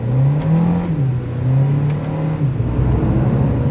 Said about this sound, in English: let's check out how this engine sprints now